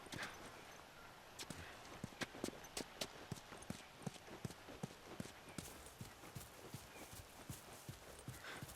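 A horse's hooves clip-clopping in The Last of Us Remastered: a steady walking rhythm of sharp, fairly faint hoof clops that continues evenly throughout, with no one talking.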